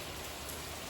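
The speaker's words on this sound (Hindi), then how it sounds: "पीछे बारिश की आवाज़ आ रही है" Steady rain falling outside, a soft, even hiss of drops on surfaces heard from indoors, faint and continuous with no voices.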